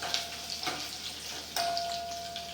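Small shallots frying in hot oil for a rasam tempering, a soft continuous sizzle with light stirring clicks and a faint steady hum in the background.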